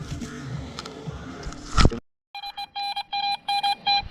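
A steady metal detector tone from an At Pro detector sounds in about six evenly spaced beeps over a coin at a lake, following a brief burst of noisy clatter.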